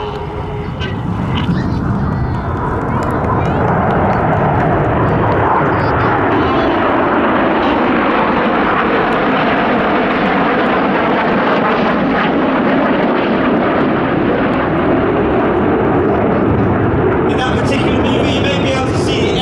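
RAF Red Arrows jets fly a formation display at the Midlands Air Festival, a loud, sustained roar that swells and holds for a long stretch while a commentator talks over it.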